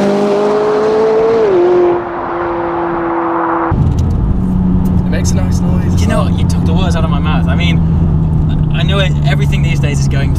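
A McLaren 570S sports car engine revs up and then settles into a loud, steady drone, with people talking over it.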